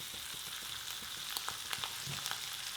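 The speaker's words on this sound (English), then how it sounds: "fry it in the pan in some butter" Rabbit offal fries in butter in a pan, a steady close sizzle with scattered soft pops and utensil taps.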